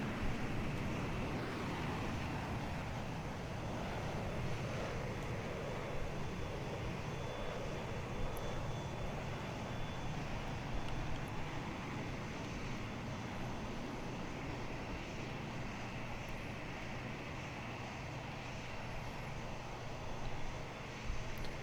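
An airliner taxiing in the Roblox flight game PTFS, a steady droning engine hum with low rumble holding even for about twenty seconds, fairly faint and with no talking.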